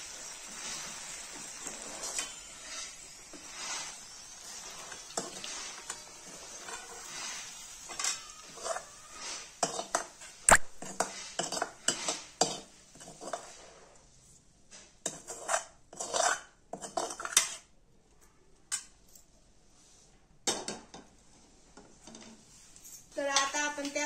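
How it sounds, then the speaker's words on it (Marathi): Cooked vegetables for bhogichi bhaji are moved into a kadai, with metal pots and utensils clattering and scraping in irregular bursts, close by, and a voice speaking at times in between. "त्या आपण एका कढईमध्ये काढून घेऊ"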